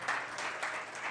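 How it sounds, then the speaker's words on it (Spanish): Church congregation applauding during a sermon, a broad steady wash of many hands clapping at moderate distance, with no speech over it. "¿Quieres darle un aplauso al Dios de la libertad?"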